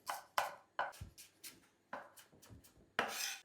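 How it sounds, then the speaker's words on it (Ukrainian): A knife dices an onion on a cutting board in about eight crisp, separate chops, close and clear, with a longer scraping stroke at the end. "Розрізаємо навпіл і будемо нарізати кубиком."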